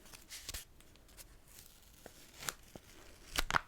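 Washi tape tears in several quick, quiet rips close by, with small crinkles between them and a louder pair of tears at the end.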